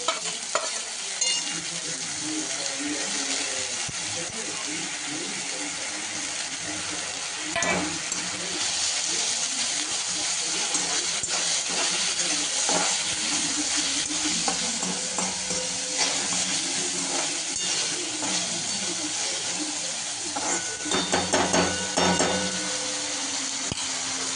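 Tomato and soaked moong dal fry in a pan for a dill leaf (shepu) bhaji, with a steady sizzle broken by repeated stirring scrapes and clinks of a spoon against the pan; no voices.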